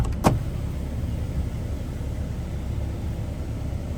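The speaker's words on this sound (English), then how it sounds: "Sunroof works great." Sunroof motor of a 2012 Ram 2500 Cummins truck gives a short electric whir near the start, then a steady low cabin rumble continues alone.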